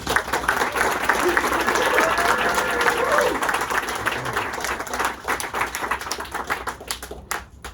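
An audience at a book launch breaks into sustained applause to welcome the performers. The clapping is steady and dense at first, then thins and fades out.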